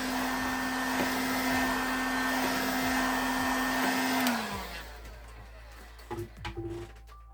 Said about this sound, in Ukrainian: Феном ми активували клей.